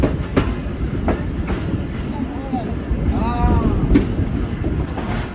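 The Awam Express train rolls at speed with a steady rumble and clatter from inside the coach, with occasional faint wheel squeals and a few sharp knocks, while voices talk over it.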